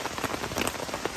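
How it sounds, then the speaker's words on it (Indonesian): Rain drums on a camping tent on Mount Slamet, dense close patter of drops hitting the fabric in a busy, uneven rhythm, with no talking. "Ini karena kita sudah terjebak dalam hujan gini"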